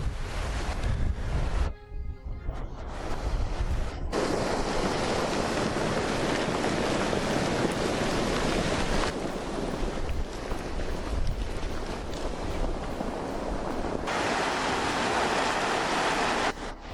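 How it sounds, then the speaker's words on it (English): A loud, continuous roaring rush of a desert flash-flood debris flow, churning muddy water and debris, broadband and steady, with a brief dip near the start before the torrent resumes. "Observe this desert debris flow."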